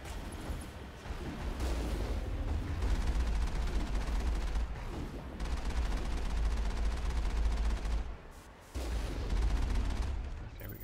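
Rocket cannon fire in Mass Effect booms steadily as a dense, rumbling barrage of heavy blasts, with one short lull before resuming loudly.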